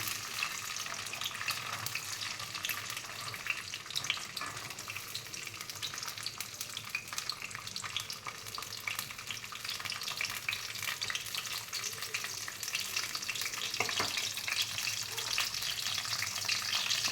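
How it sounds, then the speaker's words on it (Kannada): Sweetcorn kernels frying in hot oil in a pan, giving a steady, close, dense sizzle with occasional stirring scrapes throughout and no talking. "ಎಣ್ಣೆ ಬಿಸಿ ಆದ ತಕ್ಷಣ ಇದಕ್ಕೆ ಫಸ್ಟು ಕಾರ್ನ್ ಹಾಕೋಣ"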